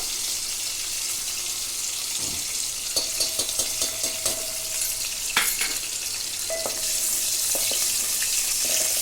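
Two spoons of ghee heat and sizzle in a pan for Sindhi sweet rice with jaggery, a steady close crackle with scattered clinks and scraping throughout.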